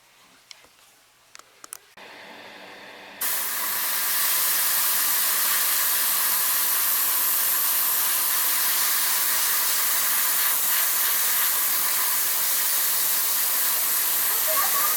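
Airbrush or spray can steadily hissing paint onto plastic model kit parts for a Hasegawa Eggplane Blue Impulse build, beginning after a few quiet handling clicks and then holding as a loud continuous spray to the end.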